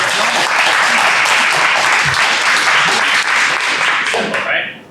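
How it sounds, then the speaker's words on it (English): Workshop participants at a theater professional-development session burst into sustained applause, a dense, steady wash of clapping for about four and a half seconds that thins out and stops at the end. "give yourselves a round of applause"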